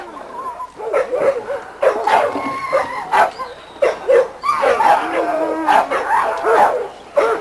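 Young dogs, six-month-old littermates, barking and yipping in a yard in short repeated bursts, fairly close and loud, with a few whimpers between barks.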